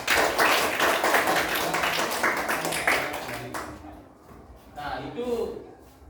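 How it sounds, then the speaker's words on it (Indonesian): A classroom of students claps for a classmate, a dense burst of applause for about three and a half seconds that then fades out, followed by a teacher speaking over the quieter room. "Tepuk tangan buat Natalia ya."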